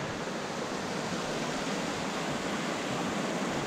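A river in Snowdonia runs full after a night of heavy rain, a dense, steady broadband rush of fast water close by, unbroken and with no voices.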